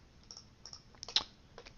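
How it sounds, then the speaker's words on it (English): Light clicking keystrokes on a computer keyboard entering numbers in Blender after a hotkey, a few quiet taps in a short irregular burst, with no voices. "typing in manual numbers after your hotkey is entered"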